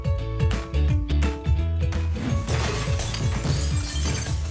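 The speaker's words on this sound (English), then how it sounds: "That's the sound of our glass breaker screen smashing up the jars, bottles, and other glass containers that end up inside of it" A recycling facility's glass breaker screen smashes jars, bottles and other glass containers, making loud repeated shattering crashes over a heavy rhythmic mechanical rumble, dense and continuous.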